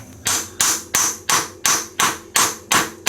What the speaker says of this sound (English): we're going to tap on the axle a little bit